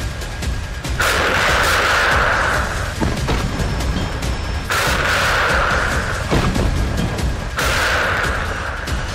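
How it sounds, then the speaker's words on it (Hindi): A TOS-1A thermobaric rocket system fires in a combat setting in Ukraine, producing three loud, long roaring rocket launches with heavy booms, spaced a few seconds apart, with no talk. "लगभग 4 किलोमीटर तक मार करने वाला TOS-1A रॉकेट सिस्टम यूक्रेनी सैनिकों को खाइयों और बंकरों में जलाकर मार रहा है।"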